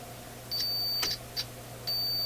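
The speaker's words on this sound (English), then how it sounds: "So we'll put this right on my continuity tester." Short high electronic beeps from a continuity tester probing a shorted capacitor in a Zenith 9F25 console stereo: a sustained tone near the start, brief chirps in the middle, then another steady tone at the end, over faint hum.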